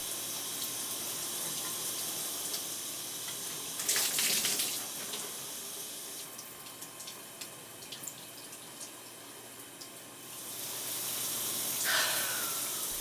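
Shower water runs steadily while hair is rinsed, a soft continuous hiss with splashy bursts of heavier spray around the fourth and twelfth seconds as the stream hits the body and hair.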